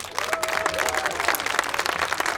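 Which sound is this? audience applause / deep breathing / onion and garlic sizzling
audience applause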